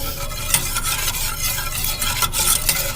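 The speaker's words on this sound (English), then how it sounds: "you just want to whisk and stir the whole time" Vanilla cream pie filling is whisked and stirred steadily in a pot, a continuous close-up scraping and swishing that runs without pause.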